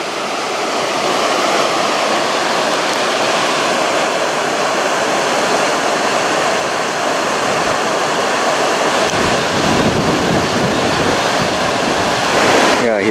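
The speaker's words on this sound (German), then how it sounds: "Ist das nicht ein Traum von Wasserlauf?" Mountain stream in the Oker valley rushing steadily, a dense continuous roar of flowing water that stays loud throughout, with some wind noise mixed in.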